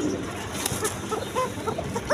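A pair of Bashiraj pigeons coo softly at close range, low repeated murmuring calls over a steady background hum, with a few brief brighter chirps.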